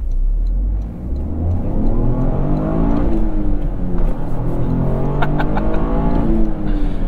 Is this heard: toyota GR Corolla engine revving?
yes